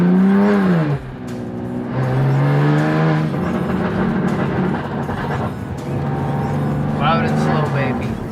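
A BMW F80 M3 engine revs loudly with its turbos apparently not building boost, rising and falling in several long drawn-out pulls, close and dominant, with someone talking over it.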